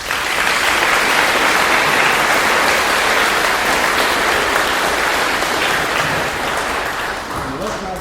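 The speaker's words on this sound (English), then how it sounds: "giving them all a round of applause from us" Sustained, dense applause fills a school veterans' assembly hall, a large crowd clapping steadily and loudly for the full stretch before tapering slightly at the end.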